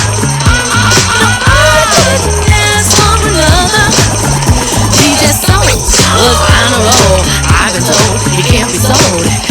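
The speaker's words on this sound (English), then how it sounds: "this whole record is driven off of the tambourine." Steady tambourine jingles shake through a dense, loud song with vocals and drums, keeping a constant rhythmic rattle on top of the mix.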